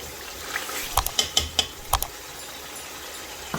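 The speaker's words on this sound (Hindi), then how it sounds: "अच्छी तरह से हम इस मसाले की भुनाई करेंगे" Kebab masala is stirred and roasted in a pan, with a handful of sharp spoon scrapes and clinks against the metal over a low steady sizzle.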